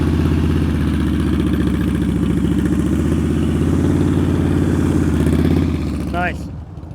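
A motorcycle rolls slowly through a turn during slow-speed riding practice, its engine a loud, steady idling rumble close by that lasts throughout and eases off near the end, with a brief whine just before it drops.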